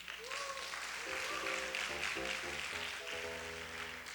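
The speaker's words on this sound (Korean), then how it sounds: "우리 큰 박수 부탁드립니다" Audience applause at a Korean gathering, a moderate wash of clapping running under prominent sustained music and tones throughout the short stretch.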